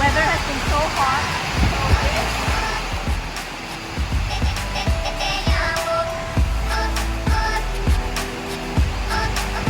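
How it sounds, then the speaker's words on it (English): Heavy rain pours down during a storm in Chiang Mai, a dense, steady wash of noise close by, broken by scattered sharp knocks and clatters. "it soon started pouring and we had to run for shelter."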